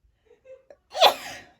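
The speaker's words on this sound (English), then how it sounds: "oh, excuse me, I'm going to sneeze" A short sniffling inhale followed by a single sharp, close sneeze, then a brief breathy tail.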